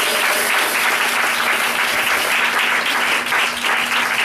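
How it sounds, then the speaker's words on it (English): A church congregation breaks into loud, sustained applause, a thick roar of many hands clapping close and continuous with no talk over it. "could you give a round of applause for 68 years?"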